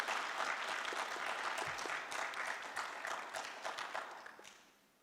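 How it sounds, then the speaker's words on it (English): Audience applause at the Miss Indian pageant, a dense burst of many hands clapping that holds steady and then thins and fades out over a few seconds. "One more round of applause for Skug Hyosik."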